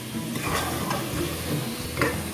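Sliced tomatoes go into a sizzling pan for chana daal gosht, a steady close frying hiss with soft stirring scrapes and light clinks over about two seconds, no speech.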